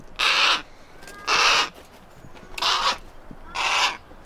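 A Harris hawk at its nest gives four harsh, rasping calls at fairly even intervals, close and loud, with faint background noise between them.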